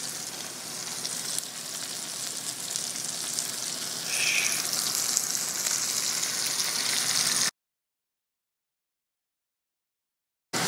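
Vegetables and garlic sizzle and fry alongside venison sausage in a skillet, a steady close hiss that runs unbroken for about seven seconds before cutting to silence.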